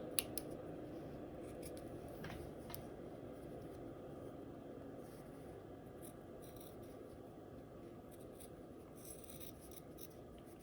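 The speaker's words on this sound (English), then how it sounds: "And what I do is I just cut the rolled hem off." Scissors cut off a fabric rolled hem from a headband, faint and close, with soft repeated snipping and rubbing over a quiet room background.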